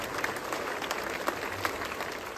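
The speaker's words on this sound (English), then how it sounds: "I think that when you clap, you get that enthusiasm back." Students in a school assembly clapping on the first day back after summer vacation, a steady wash of applause from a crowd, moderately loud and sustained throughout.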